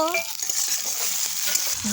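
Steady, close sizzling of frying in oil with a brief stirring scrape, onion and tomato crackling loudly throughout.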